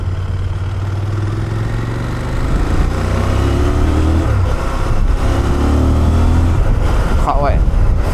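A CFMoto 1000 MTX engine roars up close as the throttle opens, its steady loud drone rising and falling in pitch with each burst of revs.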